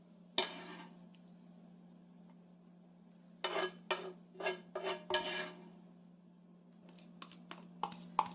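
A spoon mixes quark, cottage cheese, onions and garlic in a bowl: a quiet low hum, then a short series of soft scraping, clinking strokes, each brief and spaced, followed by lighter taps.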